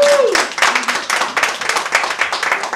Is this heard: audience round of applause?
yes